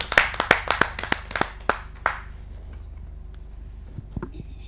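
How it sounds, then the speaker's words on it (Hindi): A handful of sharp, separate claps ring out at a Hindi poetry gathering, a kavi sammelan, welcoming a poet. They come thick at first, then thin to a few scattered claps before fading into quiet. "आप सबकी जोरदार तालियां।"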